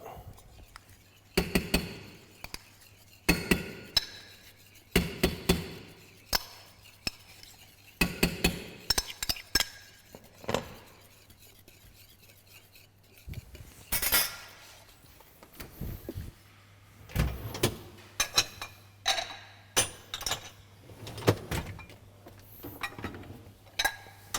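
A whisk clinking and scraping against a metal pan while butter is worked into a sauce base on the heat, in irregular bursts of metallic taps and stirring over a low steady hum, with quiet gaps between.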